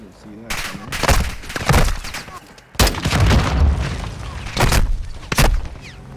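Battlefield combat in the Call of Duty Modern Warfare II campaign, Al Mazrah mission: repeated heavy gunfire bursts and booming explosions in irregular clusters, loud and continuous, with shouted voices mixed in.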